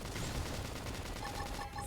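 Quick cannon attack in the video game Xenoblade Chronicles X: a dense, loud volley of rapid-fire blasts that crackle continuously, with small tonal blips near the end.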